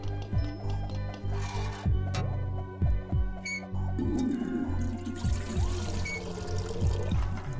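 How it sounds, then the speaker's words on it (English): Water trickling and pouring onto a strawberry in the video game Bulb Boy, a liquid dribble in short bursts over a steady low game-music bed, fairly close and moderate in level. "water the strawberry"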